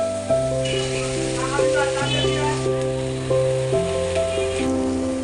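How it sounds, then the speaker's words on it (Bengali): Chowmein fries in a pan with fried potato and onion, giving a steady sizzle under continuous music or tones, with faint stirring noises mixed in. "আলু পেঁয়াজ ভাজা হয়ে গেছে এবার আমি চাউমিনটা দিয়ে দেবো এর মধ্যে"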